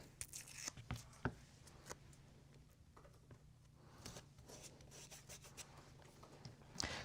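Adhesive tape being pulled and torn while a small doghouse ornament with siding is assembled, a series of close, quiet ripping and crinkling bursts scattered across several seconds.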